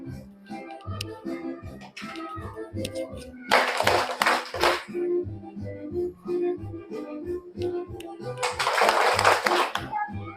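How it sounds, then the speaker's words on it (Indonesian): Children in a classroom break into applause twice, each a dense burst of clapping hands lasting about a second, with busy chatter and movement filling the room between bursts. "Tepuk tangan buat kita semuanya."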